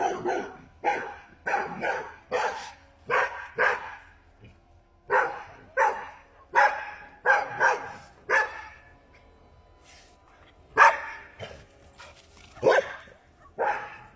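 Dogs bark wildly outdoors at night, a long run of loud, sharp barks and yips repeating in an irregular, agitated rhythm, with faint voices in the background.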